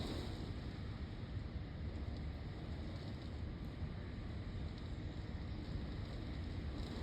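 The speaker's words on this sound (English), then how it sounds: "It's so windy." Strong wind buffets the microphone outdoors in a wind and rainstorm, a steady, loud broadband rushing roar that runs unbroken through the whole stretch, with no voices.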